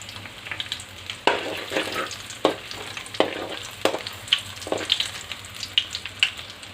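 Dried red chillies, crushed garlic and onion pieces frying in hot oil for a bitter gourd curry, a steady crackling sizzle broken by sharp spatters and scraping stir strokes, close and continuous with no talk.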